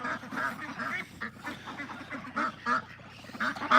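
Several ducks quack in a barn near hay bales, with bursts of nasal calls coming in irregular clusters, fairly close and clear, with no talking over them.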